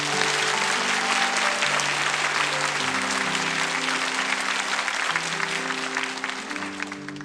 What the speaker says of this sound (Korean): 박수 소리가 들리죠?